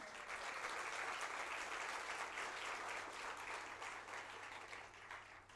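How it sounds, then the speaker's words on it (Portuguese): An audience at the swearing-in ceremony of new members of a national cultural policy council breaks into sustained applause, a full, even wash of many hands clapping that tapers slightly at the end. "Eu queria uma salva de palmas para a Ascom."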